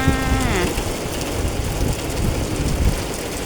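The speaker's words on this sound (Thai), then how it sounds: "ฝนมาแล้ว พ ี่ฝนมาแล้วพี่ฝนมาแล้ว" Heavy rain pours down steadily in a dense, loud hiss, with a brief tonal whine near the start.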